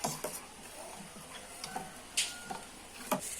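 Tempering of cumin and dried red chillies crackling in hot oil for tambuli, faint sizzle with a few sharp scattered pops and ticks, no voices.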